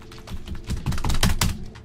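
Rapid clacking of keys on a computer keyboard while entering a cheat code in a game, a quick irregular flurry of close taps over about two seconds.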